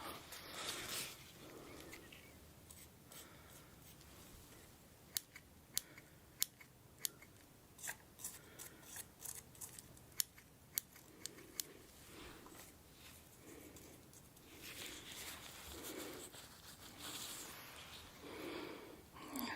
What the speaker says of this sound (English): I'm be using my scissors here.